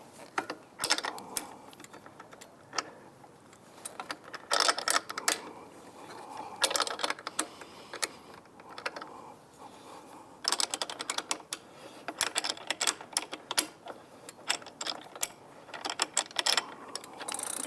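A crank puller is turned by hand to push the crank arm off an Aventon Aventure e-bike, giving quick clicky ratcheting and scraping bursts, close and fairly quiet.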